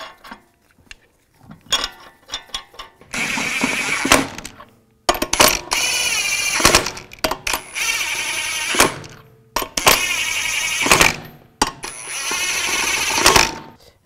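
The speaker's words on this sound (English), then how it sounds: "Install the front wheels. Put the lug nuts on." Lug nuts going onto a front wheel of a 2010-2017 Chevrolet Equinox during a transmission mount job, heard as several loud, whirring power-tool bursts separated by short quiet gaps, with no talking.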